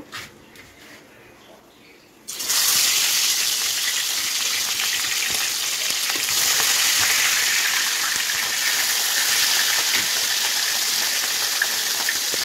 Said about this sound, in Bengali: তো আমার তেল গরম হয়ে গেছে, এবারে আমি মাছগুলো ভেজে নেব।